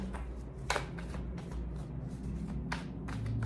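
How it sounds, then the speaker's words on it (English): Tarot cards being shuffled by hand in a quiet room, a series of soft riffling and slapping bursts at an irregular pace with no talking. "I'm just gonna shuffle until something comes through."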